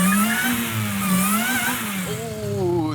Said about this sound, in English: that's like the coolest sounding slipping clutch ever though